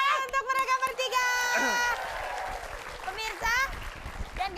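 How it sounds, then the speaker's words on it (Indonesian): Studio audience applause at an Indonesian TV comedy show, a broad wash of clapping that swells after loud voices and cheering, with shouting and talk over it throughout. "Tepuk tangan untuk mereka bertiga."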